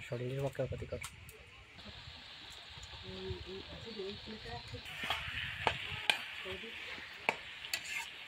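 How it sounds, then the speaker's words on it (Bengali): Shredded cabbage frying with dried and green chilli paste, cumin paste and ginger-garlic paste, a soft hissing sizzle with sharp clicks of a spatula stirring against the pan, a voice talking over the start. "শুকনো লঙ্কা ও কাঁচা লঙ্কা বাটা দিয়ে একসাথে নাড়াচাড়া করতে হবে"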